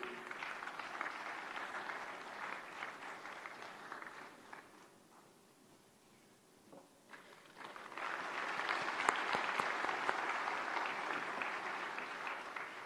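Audience applause at a convocation ceremony as a gold medalist in orthopedics comes on stage, a steady round of clapping that fades to a lull midway, then swells back louder and fuller.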